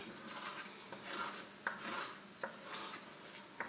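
Spinach stew is stirred gently in a pan, giving soft, rhythmic scraping and rubbing strokes with small periodic knocks, close and quiet with no talking.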